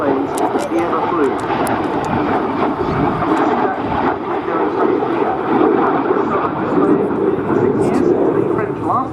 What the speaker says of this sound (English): the maiden flight of a German-built Alpha Jet